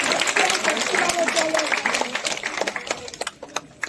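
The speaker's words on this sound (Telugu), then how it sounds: "గట్టిగా చప్పట్లు కొట్టాలి" A crowd at a Praja Palana government public event for Telangana IT minister Duddilla Sridhar Babu claps loudly, the applause thinning out after a couple of seconds, with voices mixed in.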